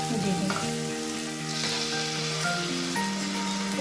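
Tomato puree hitting a pan of frying ginger, garlic and onion, a loud continuous sizzle with bubbling crackle and some stirring, close by and with no talking.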